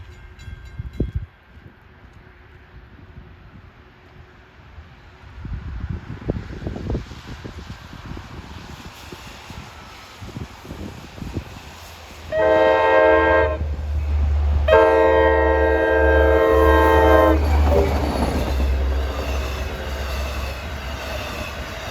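A Long Island Rail Road commuter train on the Montauk Branch approaches Brightwaters on a snowy winter day, led by D30AC diesel locomotive 416; its K5LA horn sounds in two loud blasts as the rumble builds, then the train passes close by.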